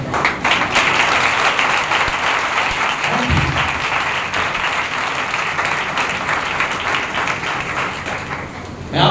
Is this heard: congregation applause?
yes